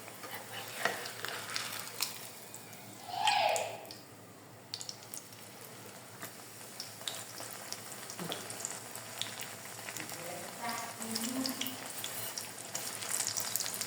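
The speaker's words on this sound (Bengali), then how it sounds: "তেল বেশি দিয়েছি মুচমুচে হওয়ার জন্য। একটু লাল লাল করে ভাজবো, মোগলাইয়ের মতন হবে।" Stuffed flatbread filled with beef, egg and coriander fries in plenty of oil with a continuous crackling sizzle, broken by scraping and stirring noises and a short squeaky burst early on.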